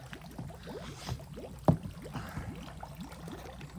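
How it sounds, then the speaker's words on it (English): Water pours out of a homemade pond filter built from a trash can drilled with holes, running green water through and letting it out clearer. It is a steady, close trickle and splash with rhythmic gurgling pulses and one sharper slosh midway. "We got clear water coming out, folks."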